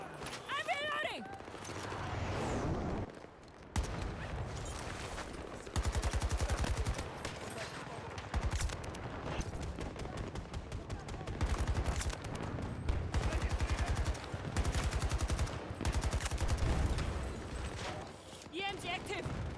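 AK-24 assault rifle firing in Battlefield 2042: repeated loud bursts of automatic gunfire with short pauses between them, alongside other game sounds and a voice speaking.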